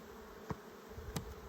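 Honey bees in a queenless hive hum as a low, steady drone, with two brief louder bursts of buzzing as bees pass close by.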